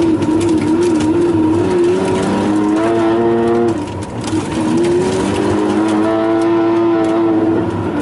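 A Pagani Zonda 760RS driven through an industrial estate, its engine droning loud and close, pitch climbing and falling as it revs, with a brief dip in power midway before pulling hard again.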